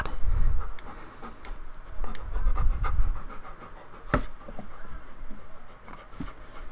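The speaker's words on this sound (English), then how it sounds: "I'm sorry if you guys can hear a dog panting" A pet dog pants steadily and close by, rapid breathy huffs repeating throughout with small ticking sounds in the background.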